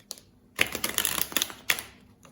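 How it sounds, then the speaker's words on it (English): A deck of tarot cards is reshuffled, making a rapid flurry of close, papery riffling taps and flicks with a sharp snap at the start and near the end. "I want to reshuffle those cards."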